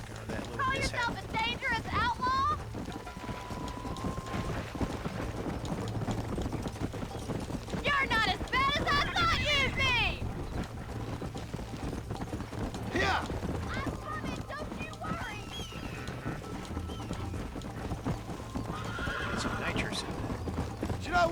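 Horses gallop with rapid clip-clop hoofbeats and repeated shrill whinnies in the Western game Red Dead Redemption, a continuous chase with voices speaking throughout.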